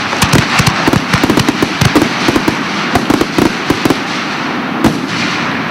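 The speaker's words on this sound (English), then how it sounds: "some fireworks displays are fired electronically, the majority are still lit by hand with flares" Rapid, loud crackling bursts and bangs of fireworks, popping in dense irregular clusters, close by with no talking.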